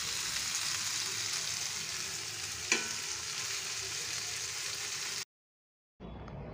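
Prawns sizzle on a hot tawa for a Marina Beach–style prawn fry, a steady, dense hiss close by with one brief clatter near the middle, then a short cut to silence before the sizzle resumes.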